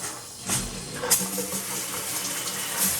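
Water from a Delta shower runs steadily again after a leaking valve repair, a close continuous hiss and splash with a few brief surges, no talking.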